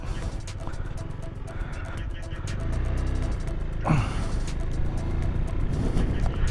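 A ZONTES 368K motorcycle rides over an uneven road, its engine a close continuous rumble with wind buffeting and rattling bumps, plus a short sharp noise near the middle.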